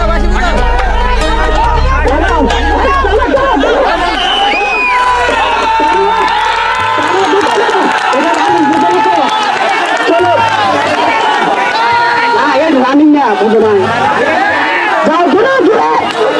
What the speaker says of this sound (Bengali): সবাই তাদের করতালির মাধ্যমে